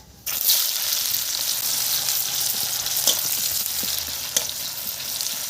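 Loud, steady sizzling of onions frying in hot oil with dried red chillies and nigella seeds, a constant crackling hiss with a few sharper pops, no talking.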